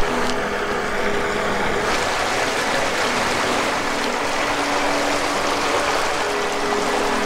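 Steady rushing water fills the whole stretch as someone wades through a river near a campground in rural New Zealand, a dense continuous wash of current and splashing with no talk.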